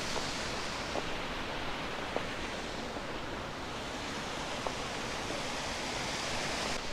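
A waterfall in snowy mountains pours with a steady, dense rush of water, constant and fairly close, with no other sounds standing out.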